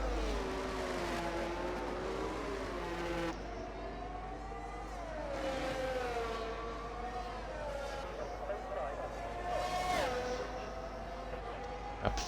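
A McLaren race car engine in a racing video game, its revving pitch rising and falling through gear changes in a steady, sustained drone. Voices talk over it the whole time.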